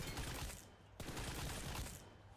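Bursts of M4 rifle fire in the PUBG Mobile video game, a dense clattering volley running throughout, loud and close, with no talk over it.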